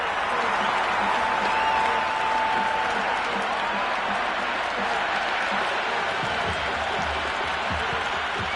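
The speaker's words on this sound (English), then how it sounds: "It's the most enthusiastic crowd you could ever see right now. There's a buzz, a real buzz coming from the stands." A stadium crowd in the Cricket 26 video game roars after a boundary, a steady, dense wash of applause and cheering that holds at an even level throughout.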